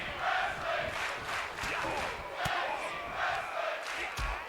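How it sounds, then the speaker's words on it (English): A wrestling arena crowd roars steadily through a tag team match, with surging cheers and shouts holding at a loud, continuous level and a few sharp thuds cutting through. "the crowd seems really enthralled by the fact that this is a tag team match"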